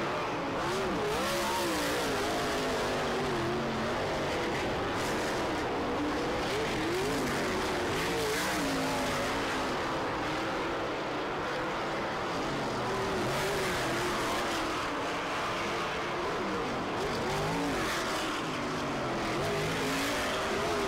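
USAC dirt track race cars running hot laps at Terre Haute Action Track roar continuously, with engines revving and surging as they pass close by, loud and steady throughout with no talking.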